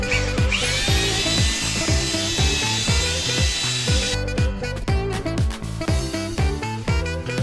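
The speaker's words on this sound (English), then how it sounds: "We're going to mix it up using this paddle mixer attached to a drill." An electric drill fitted with a paddle mixer churns material in a steady, loud run, with a high motor whine and regular rhythmic knocking throughout, no talking.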